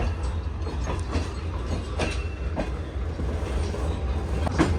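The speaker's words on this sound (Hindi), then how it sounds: "तो खानेवाल को फाइनली ट्रेन ने अलविदा कह दिया है" Shah Hussain Express pulling out of Khanewal station, a steady low rumble of rolling wagons with rhythmic clickety-clack wheel beats and occasional squeals, close and continuous with no voices.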